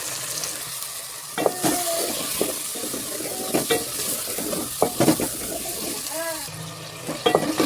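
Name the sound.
stir-frying potatoes with cumin and coriander powder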